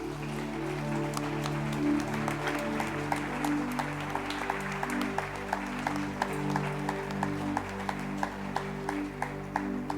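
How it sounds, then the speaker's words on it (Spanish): Applause from a church congregation at a Sunday service, steady clapping lasting throughout over sustained organ or keyboard music, fairly loud and close. "Dale el mejor aplauso al Señor."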